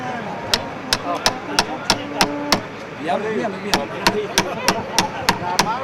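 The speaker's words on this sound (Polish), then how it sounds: "Już jest młoteczek, jest też kranik. Za chwilę wielkie otwarcie beczki." Sharp metallic hammer blows strike in quick bursts as a tap is driven into a beer keg, roughly a dozen knocks in two runs, with a brief pause between and voices murmuring underneath.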